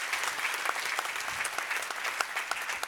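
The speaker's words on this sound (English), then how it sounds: "I think we give them another round of applause." Audience applause for the panelists at the closing plenary of a forum in Stockholm, a steady, dense clapping that holds at an even level throughout with no talk over it.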